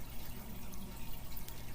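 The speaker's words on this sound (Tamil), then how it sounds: "அந்த தண்ணி எடுத்து இதில் ஊற்றிக்கலாம்" Spiced masala water from a rinsed vessel pours into a pan of potato fry gravy, a steady low splashing trickle with faint dripping, continuous and close, with no talk over it.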